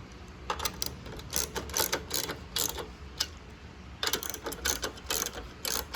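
Top box mounting bolts being tightened on a KTM 790 Adventure, giving clusters of quick close ratcheting clicks in steady bursts with short pauses between them.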